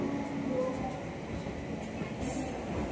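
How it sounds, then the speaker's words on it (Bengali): A Kumbh Express passenger train pulling into Haridwar station at the end of its run from Howrah, a steady low rumble of rolling wagons heard from on board, with faint voices in the background. "এই দেখো তোমরা, হরিদ্বার স্টেশন ঢুকছে ট্রেন।"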